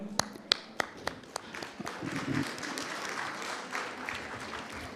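A few sharp, evenly spaced claps are followed by a steady wash of applause from a crowd, moderately distant.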